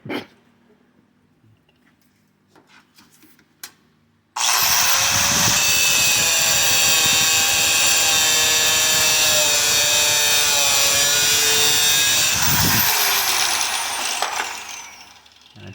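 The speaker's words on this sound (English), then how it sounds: "I'm going to cut some thread off of that with the grinder real quick" An angle grinder cutting thread off a battery hold-down bolt on a Ford F150 starts abruptly after quiet handling noises. It then gives a loud, sustained high-pitched whine and cutting screech for about eight seconds before spinning down.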